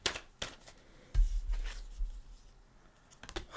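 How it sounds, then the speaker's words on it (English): Tarot cards riffle and slap together in a few quick bursts, close by, with soft rustling between shuffles. "Let's go ahead and shuffle."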